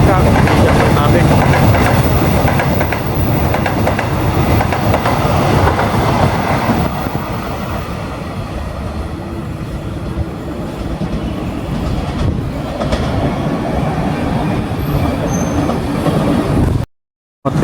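Train cars being shunted southward for coupling into a Purwojaya trainset, with loud close rumbling, wheel clatter and squealing rail noise rolling continuously before cutting off abruptly.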